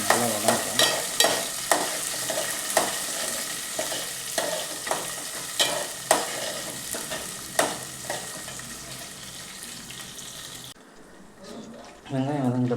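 Onions sauté in a pan for a home-style meen kolambu fish curry, with a steady sizzle broken by regular scraping stirs of a spatula, close and fairly loud, before the frying drops quieter near the end.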